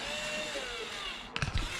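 Silver screws driven into solar panel framing on a van roof, heard as a steady whirring drone that gives way to a few sharp, close knocks and clatters at the end.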